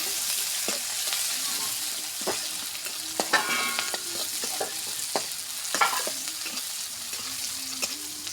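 Chopped onions frying in a pan, steady sizzling with repeated spatula scrapes and taps against the pan throughout, close and fairly loud, with no speech.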